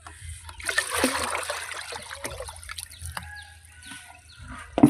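Homemade liquid garden fertilizer made from kitchen waste is scooped from a container and poured out, with soft splashes, trickles and dribbling water close by against a quiet outdoor background, and no speech.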